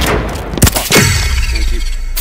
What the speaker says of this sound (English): I throw a grenade